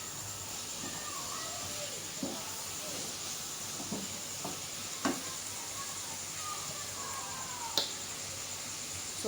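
Bell peppers stir-fried in a hot pan hiss and sizzle steadily, with scattered small pops and clicks from the spatula breaking through the constant frying noise.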